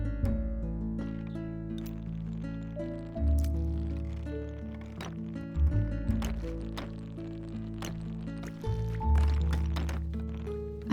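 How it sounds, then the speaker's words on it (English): Water runs from a waterfall through waterways toward a lake in the video game Tiny Glade, a continuous gentle flow layered over soft sustained musical tones, with occasional bright drips. "I made sure to include the waterways that let water flow from the waterfall"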